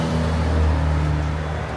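Busy small-town street traffic in Sykesville, Maryland, with a steady, fairly loud low engine rumble and droning road noise throughout, no voices.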